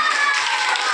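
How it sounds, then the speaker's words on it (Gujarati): Classroom students clapping for a game winner, a brief dense burst of close hand claps lasting about a second. "ચાલો આ ગેમના વિજેતા બને છે જિગ્નેશભાઈ જોરદાર તાળીઓ પાડશો આપણે"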